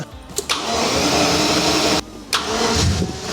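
A V12 Jaguar XJS that has sat for nearly two years cranks loudly with a whirring, vacuum-like starter drone, stops briefly, then cranks again without catching.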